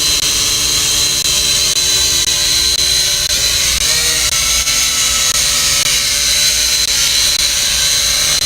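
Holy Stone HS100 GPS drone landing, its propellers whirring in a steady high-pitched drone that stays loud and continuous throughout, with a slight dip in pitch partway through.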